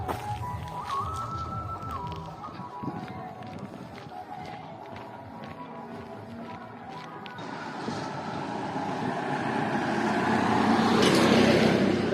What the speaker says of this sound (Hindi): तो गाड़ी इधर से आ रही है